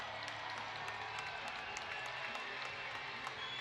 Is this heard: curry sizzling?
no